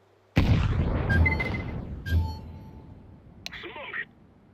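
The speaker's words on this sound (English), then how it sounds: "I'm throwing a grenade." Grenade explosion in Counter-Strike Online 2, a sudden loud blast followed by a rumbling tail, then a second burst and fading debris, with game effect tones mixed in.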